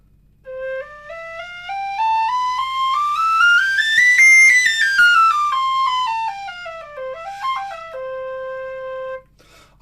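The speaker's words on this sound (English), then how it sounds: "So I've now moved on to a C whistle. Again, it's a Killarney." Killarney tin whistle in C played up a scale and back down, clear breathy notes stepping evenly in pitch, alone and fairly loud, with a quick ornamented flourish near the end.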